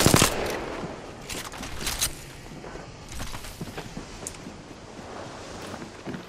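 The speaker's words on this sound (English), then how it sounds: "Just shoot him, bro." Rapid gunfire bursts crackle from an Apex Legends match, loud clustered shots near the start and around two seconds, then scattered lighter pops over steady wind-like background noise.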